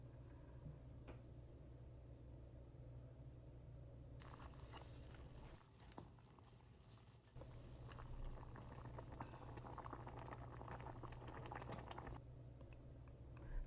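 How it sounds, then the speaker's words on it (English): Goat meat pepper soup bubbling steadily in a covered pot, a continuous wet boiling rumble that swells louder partway through and stays close, with no voices. "I covered it and allowed it boil for another 5 minutes"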